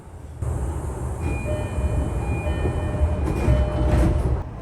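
A JR Ome Line train at Futamatao station in the evening rumbles past steadily, wheels rattling over the rails with a faint high whine, close by and without talk.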